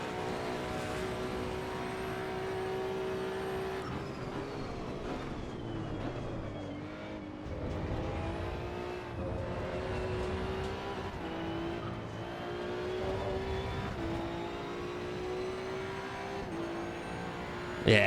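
Race car engine in the Assetto Corsa EVO driving game, a steady loud drone with shifting pitch as the car accelerates and shifts, with faint tire noise, continuous and close throughout.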